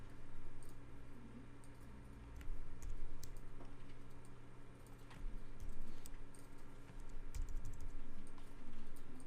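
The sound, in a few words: computer keyboard keys pressed, arrow keys with shift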